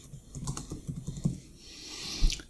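Someone types on a computer keyboard in a quick, uneven run of close, crisp key taps, with a few louder strikes and a short pause partway through.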